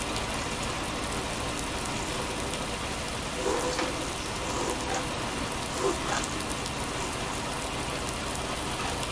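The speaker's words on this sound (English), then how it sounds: "the rain is lashing down at the moment" Heavy rain lashes down steadily outdoors on a farm while a David Brown 990 tractor spreads fertilizer, the dense hiss of the downpour constant throughout with a few brief louder spatters.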